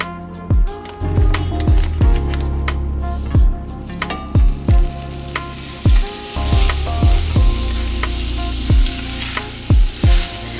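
Butter and oil sizzle in a hot pan, with a steady frying hiss broken by repeated sharp clinks and scrapes, close and loud.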